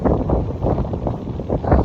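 Steady wind blowing along the Welsh coast by the sea, a broad continuous rush with gusty swells, close and fairly loud with no voices.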